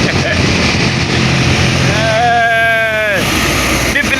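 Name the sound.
Clark truck with Cat C15 engine climbing hill under heavy load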